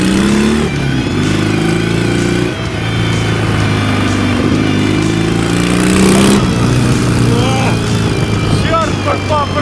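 A Ural motorcycle with an opposed-twin engine revs loudly up and down, rising and falling in pitch, heard close and continuous while riding through a village.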